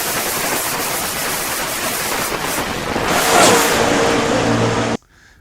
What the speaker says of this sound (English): I'm a race car driver and I just speed away